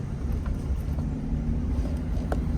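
A VIA Motors VTRUX hybrid pickup engine idles slightly high with its generator running, giving a steady, close low rumble with a faint hum and light wind noise throughout.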